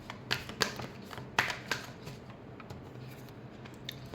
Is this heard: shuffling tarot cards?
yes